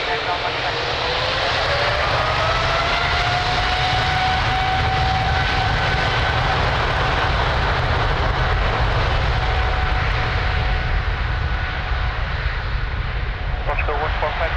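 A jet airliner's engines roar steadily and loudly at Lisbon Airport, a broad sustained rumble with a rising whine, while tower radio chatter runs faintly underneath.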